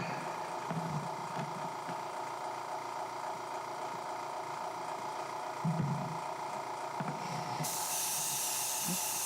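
A paint-loaded airbrush gives a steady, fairly close hiss of spraying, with a few soft handling bumps and a sharper, brighter burst of spray near the end.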